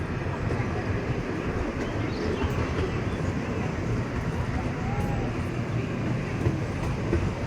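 Safari ride train running steadily on rails through a wildlife reserve, a continuous loud rumble with rattling carriage noise throughout, and a voice talking over it.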